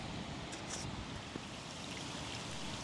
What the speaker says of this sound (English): Yay, we have rain at last.